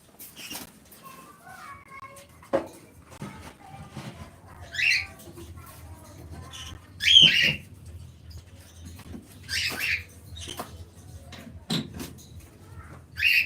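Small birds kept on a bird farm give short, sharp squawks and chirps at scattered moments, fairly close, over a quiet background with light rustling and scratching.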